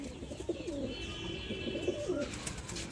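Andhra Madrasi pigeons coo softly nearby, with low, rolling calls repeating against a light background hum.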